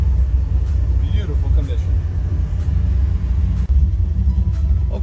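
A 1955 Chevy Bel Air with a 502 engine and 4-speed idles with a steady, loud low rumble throughout, while a person talks briefly over it.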